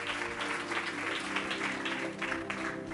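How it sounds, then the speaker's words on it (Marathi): A church congregation claps in applause at a Marathi sermon on the cross of Jesus Christ, a dense steady patter of many hands lasting throughout, with faint background tones underneath. "परत एकदा जोरदार टाळ्या प्रभूच्या गौरवासाठी मी वाजूया"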